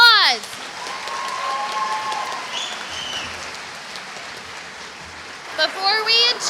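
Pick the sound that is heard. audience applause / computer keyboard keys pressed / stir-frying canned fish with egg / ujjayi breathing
audience applause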